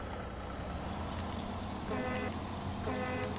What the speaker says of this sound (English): Honks so hard it shakes the puddles and scares birds.